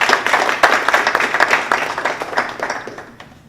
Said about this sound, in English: Please, please give them another round of applause.